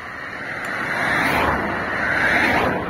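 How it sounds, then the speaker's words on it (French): Cars pass by on a road along the Via Francigena walking route, a steady broadband wash of tyre and engine noise swelling and easing over a few seconds, fairly close. "désolé pour les voitures"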